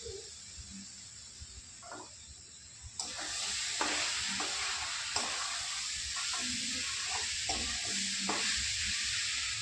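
Grated coconut cooks in a pan for coconut naru, with the gas on medium. A steady hissing sizzle swells partway through, and repeated stirring strokes scrape across the pan close by.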